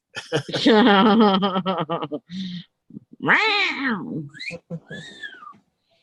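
A domestic cat meows in a few drawn-out, wavering calls, close and fairly loud, with short pauses between them.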